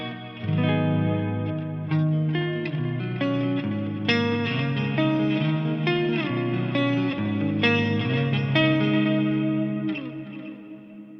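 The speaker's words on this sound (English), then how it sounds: "So this one has like a dual delay with a plex reverb." Electric guitar chords ring out with long, layered delay repeats and a wide, shimmering reverb tail, played steadily and loud with no voices.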